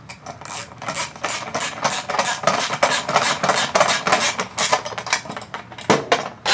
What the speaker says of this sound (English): take your 10mm socket or wrench, if you have just a wrench, Phillips screwdriver, and just tighten them up